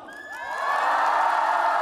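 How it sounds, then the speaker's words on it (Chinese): A studio audience on a Chinese music show erupts into cheering and applause as singers are welcomed on stage, swelling from a thin start into a loud, sustained roar of clapping and shouts. "请用最热烈的掌声欢迎今晚的第一对盲配歌手"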